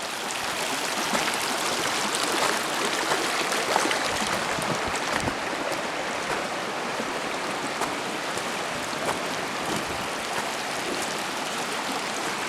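Water rushes steadily and loudly at the confluence of Deep Creek in Zion's Narrows, a continuous broadband wash that stays even throughout with no voices.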